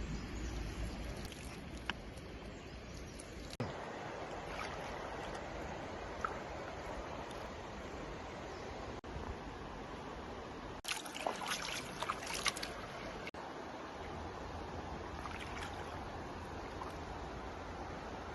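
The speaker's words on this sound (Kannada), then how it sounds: "ಬಾಳೆ ಗಿಡಕ್ಕೆ ನೀರು ಹಾಕ್ತಿದ್ದೀನಿ" Water poured onto a banana plant outdoors in a forest, a soft continuous trickling and splashing that runs throughout, with a louder gushing stretch partway through.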